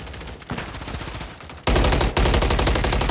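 Rapid automatic gunfire in Call of Duty MW3, dense loud bursts that start mid-clip and intensify sharply into a heavy continuous volley.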